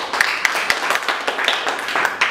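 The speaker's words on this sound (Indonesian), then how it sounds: "Tepuk tangan dong untuk Naturindo." An indoor audience claps for Naturindo at a health talk on massage therapy, a moderate, uneven spatter of hand claps with a few sharper individual claps standing out across the whole stretch.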